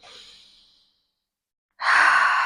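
A person exhales during a beginner Pilates mat workout: a soft, airy breath fades out, then after a pause comes a stronger, close, breathy exhale.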